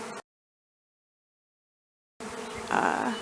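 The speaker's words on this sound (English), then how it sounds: "I'm basically standing in a cloud of thousands of honeybees that are performing orientation flights" Thousands of honeybees on orientation flights buzz around a garden hive, a dense close hum after a brief gap of silence, swelling louder near the end.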